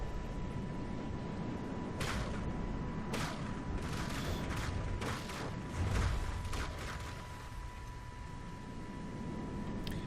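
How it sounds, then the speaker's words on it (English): Particle cannons firing in the naval combat game From the Depths, a series of sharp bright blasts at irregular intervals over a steady hiss and hum, with a deeper boom partway through. "But they can't stop the particle cannons."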